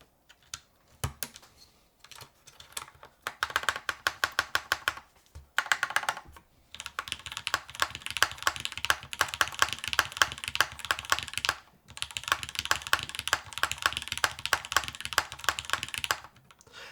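Typing on the Soleil solar-powered mechanical keyboard fitted with a Cherry switch, with rapid, close, clacky keystrokes in bursts broken by short pauses and a few heavier thunks.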